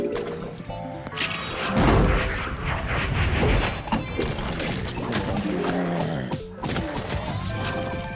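Cannons firing in Plants vs Zombies 2, Tiki Torch-er endless levels: loud, dense game audio with repeated booming blasts, crashes and layered effects over a busy soundtrack, fairly constant throughout with a short dip near the end.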